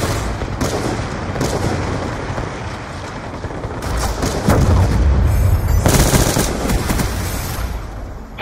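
An AGR robot tank fires in Black Ops 2 during a free-for-all match: loud, sustained rapid gunfire mixed with heavy booms, continuous and close throughout.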